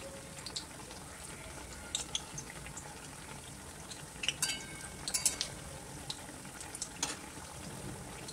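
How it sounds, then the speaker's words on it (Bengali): Lentil fritters (bora) fry in hot oil in a wok, making a soft, continuous bubbling sizzle with scattered small pops and crackles. "কড়াইয়ে তেল খুব ভালো করে গরম হয়ে গেলে আমি সব কটা একের পর এক তেলে ছেড়ে দেব।"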